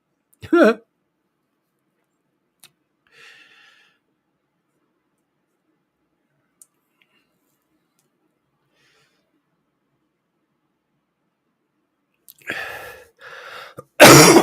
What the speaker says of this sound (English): I do apologize for coughing in there.